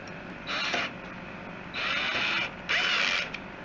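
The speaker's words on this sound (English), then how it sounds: "that's the torque setting you hear" A torque wrench ratchets in three bursts while tightening the mounting screws of a Lepa AquaChanger 240 CPU water cooler, each burst a dry, even clicking of about half a second to a second, close by with no talk.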